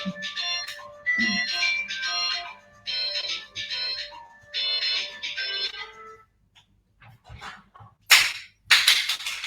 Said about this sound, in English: I have a phone going off in the background.